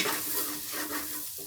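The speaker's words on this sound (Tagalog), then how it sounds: "Iluto ko siya guys sa butter. Tsaka sa bawang." Garlic sizzles steadily in butter in a pan, with soft scraping as it is stirred, a continuous close-up frying hiss with no voices.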